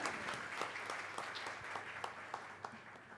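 A live audience at a Marathi song and poetry program claps together in sustained, dense applause for the composer. It is fairly distant and soft, with a few louder claps standing out near the end.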